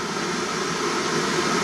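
A coffee urn heats water nearby, giving a steady, continuous broadband hiss and hum that holds level throughout with no breaks or voices.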